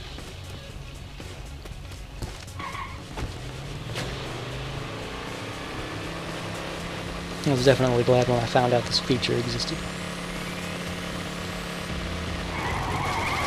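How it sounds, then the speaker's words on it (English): Car in the PAYDAY 2 video game reversing during a J-turn, engine revving and tyres skidding in a loud burst midway, with someone talking over the quieter game sounds. "use the shift key to look in reverse mode so I can drive backwards here in just a moment"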